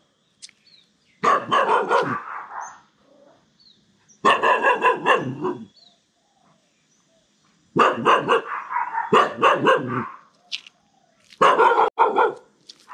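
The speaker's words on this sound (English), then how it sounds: "It's a bark that is afraid." A frightened dog barks in four separate bursts of rapid, loud barking, with short silent pauses between them.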